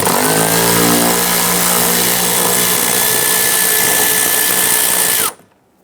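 Power tool loosens a 10mm bolt inside a rear door of a 2011-2019 Ford Explorer during lock actuator replacement: a loud, steady drill whine runs for about five seconds, then cuts off abruptly into silence.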